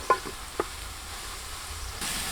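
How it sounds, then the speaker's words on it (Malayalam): Ginger and garlic sauté in a pan for Kerala-style fish molee, a faint steady sizzle broken by a couple of sharp utensil clicks near the start, with the frying growing slightly louder at the end. "ഇഞ്ചിയും വെളുത്തുള്ളി ഇട്ട് കഴിഞ്ഞിട്ട് നമ്മൾ എന്താണെങ്കിലും ഒരു കുറച്ചൊന്ന് വഴറ്റിയെടുക്കണം"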